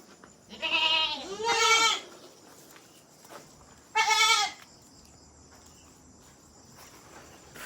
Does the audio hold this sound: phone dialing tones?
no